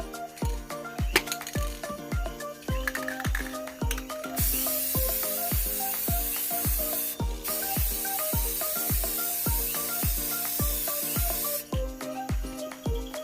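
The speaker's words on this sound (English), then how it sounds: "you want to apply the black gloss, like the gloss black spray paint" A steady hiss of gloss black aerosol spray paint runs for several seconds, over a loud, regular rhythmic beat.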